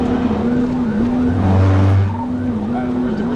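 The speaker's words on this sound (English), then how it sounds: "Cadet Newsall swung in, tapped the rear bumper, and spun the Murano sideways" A Nissan Murano spinning out after a police pit maneuver, loud engine and sustained tire squeal wavering under the drone of the car, close and continuous, with voices talking over it.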